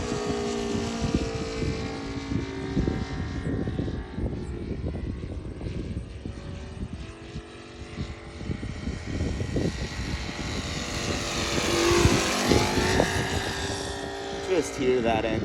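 An RC Aeroworks Yak 55 model plane with an ASP 400 radial engine drones steadily as it flies past, the engine note swelling and shifting in pitch as it nears and passes, with the sound continuous throughout.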